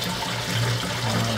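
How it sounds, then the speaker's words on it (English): Water rushes through the cooling system of a Triumph Stag during a reverse flush, fed from a hose tap reducer into the top radiator hose, a steady close gushing flow with a low hum and no speech. "here is an attachment for flushing the cooling system for the Triumph Stag."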